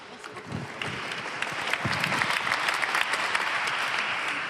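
Audience applause at a Christian gathering of testimonies in France, building from scattered claps into loud sustained clapping by a large crowd, with a few low voices mixed in early on.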